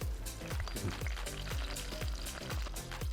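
Green chilies hit hot coconut oil in a pan while a Kerala-style pearl spot fish curry is being made, giving a continuous close sizzle with rapid, rhythmic crackling pops.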